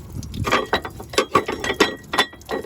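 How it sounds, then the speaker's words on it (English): A ratchet wrench clicking on a water pump bolt of a Dodge Chrysler 3.3/3.8 litre minivan, quick bursts of sharp ratcheting clicks in short strokes, close and alone. "I'm going to get it the same way with that ratchet wrench."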